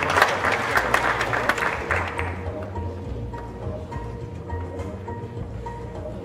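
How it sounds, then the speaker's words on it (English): Applause from the audience at a UI GreenMetric World University Ranking ceremony rings out fairly strongly for about two seconds. It then fades quickly into a quieter room with a low, steady background hum. "Please give a round of applause for UI GreenMetric"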